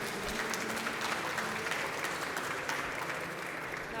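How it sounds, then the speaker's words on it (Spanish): Dense, steady applause from an audience at a book presentation during the FIL Monterrey 2023 book fair, filling the room evenly for several seconds with no talk over it. "les pido un aplauso para ella"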